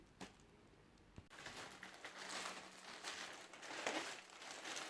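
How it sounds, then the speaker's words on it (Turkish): A plastic bag of thermal and sound insulation material is opened up close, giving a steady stretch of crinkling and rustling after a couple of sharp clicks, with no talking. "Şimdi poşeti açıp malzeme incelemesi yapalım."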